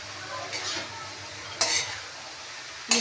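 Ginger being stirred in a pan while cooking: faint sizzling frying with a few short spoon scrapes and clinks against the pan, quiet and close.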